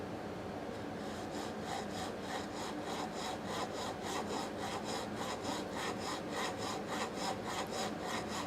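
A hand saw cuts a dovetail kerf in wood with steady, rapid back-and-forth rasping strokes, close and continuous, with no talking.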